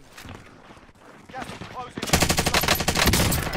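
Rapid automatic gunfire in a shooter video game. It bursts in loud and close after a quieter moment and runs in a fast, dense rattle to the end.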